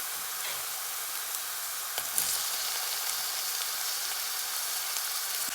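Finely chopped tomato sautéing with browned onion in a pan, a steady soft sizzle and hiss close by with a couple of faint stirring clinks.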